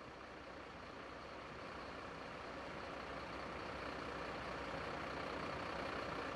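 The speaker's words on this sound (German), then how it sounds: "Hier läuft irgendwo der Motor." A fire truck engine idles in the Notruf 112 firefighting simulation game, a steady low rumble that runs without a break and grows slightly louder across the whole stretch, with no voices over it.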